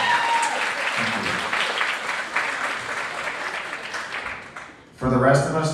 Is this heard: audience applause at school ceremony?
yes